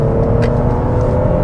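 A Toyota Highlander XSE V6 engine accelerates on the road in sport mode, a steady mid-pitched engine drone with some whir, heard from inside the car.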